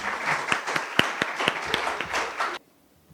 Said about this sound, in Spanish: les pido que recibamos con un muy fuerte aplauso